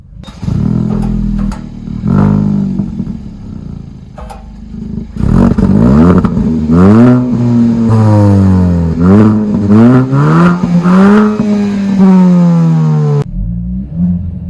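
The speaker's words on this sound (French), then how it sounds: "Nous allons tout de suite démarrer le moteur, et ce qui va vous étonner tout de suite, eh bien c'est la sonorité" A Kia Proceed GT 204 hp engine cranks and catches, then revs repeatedly through rising and falling pitch, loud and close, before settling back to a steady idle.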